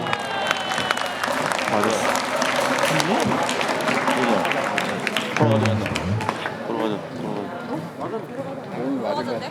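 Baseball crowd in a Korean stadium during a Hanwha Eagles versus Samsung game, a dense sustained roar of cheering and clapping mixed with an amplified announcer's voice and chanting throughout.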